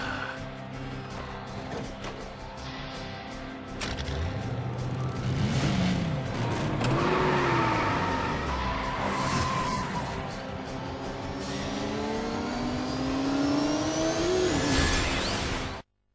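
Karts race in Crash Nitro Kart, engines whining and rising and falling in pitch as they speed past, loud and continuous over game music, then cutting off abruptly.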